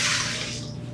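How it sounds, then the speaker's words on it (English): Warm water pours into bread-making bowls, a steady gushing splash in one continuous close stream that tapers slightly toward the end. "We're going to put 2½ cups of warm water in each one of these"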